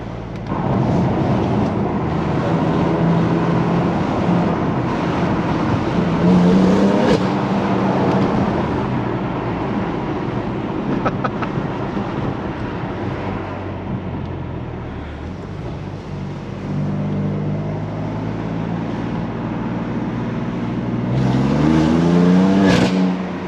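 A BMW M4 drives fast on a rough, patchy street, its engine droning steadily with revs climbing and surging in a few bursts, heard from inside the car and alone without talk.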